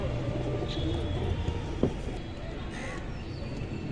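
A pigeon coos softly from a loft amid a busy low background hum, with a faint chirp or two of other birds nearby.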